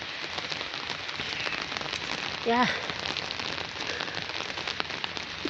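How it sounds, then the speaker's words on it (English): Heavy rain falling outdoors in Kenya during flooding, a dense, steady hiss of drops on surfaces throughout, with a brief spoken word partway through. "There is a heavy rain here."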